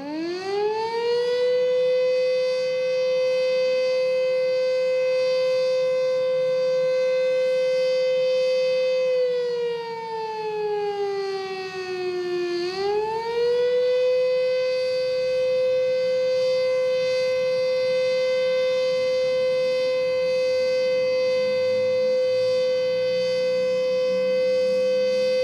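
A town work-shift siren in Ituiutaba wails loud and alone for the whole stretch, holding a steady rising tone that dips and bends lower midway before swelling back up to full pitch.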